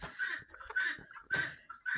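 Chickens and roosters cluck and squawk in quick, close bursts, several birds calling over one another with short pauses.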